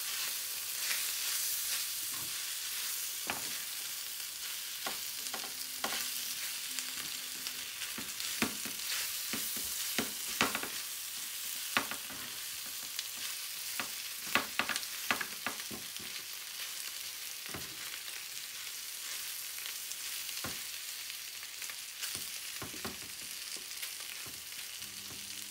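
Mutton choukouya stirred in a pan over a low, steady sizzle, with repeated scattered scrapes and taps of the utensil throughout a long stretch and no one speaking.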